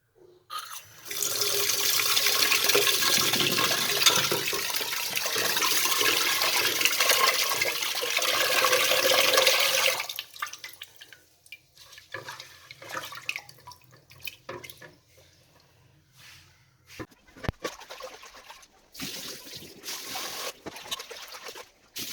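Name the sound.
washing rice in water at the sink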